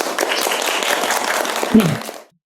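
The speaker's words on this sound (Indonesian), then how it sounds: "Tepuk tangan." A classroom group claps together in a short burst of applause that ends abruptly.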